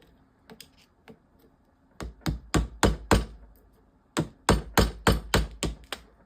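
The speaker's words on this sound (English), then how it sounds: "chisel into it a bit, get some of that coating off" A chisel chips insulating coating off transformer windings held in a vise, giving two sharp bursts of loud metallic strikes, roughly five in each rapid series, close up with no talking.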